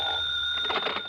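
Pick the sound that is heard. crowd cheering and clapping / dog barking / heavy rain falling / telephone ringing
telephone ringing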